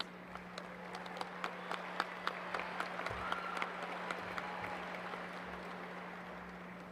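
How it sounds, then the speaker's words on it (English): Applause fills a large venue at a high school graduation ceremony for student musicians, a continuous crowd clapping with scattered sharper claps standing out, moderately faint and steady over a constant electrical hum. "Let's give a round of applause for all these talented musicians."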